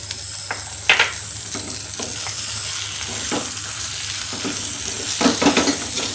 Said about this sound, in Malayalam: കടുകും ഉലുവയും കൂടെ പൊടിച്ച പൊടി ഇട്ട് കൊടുക്കുവാണേ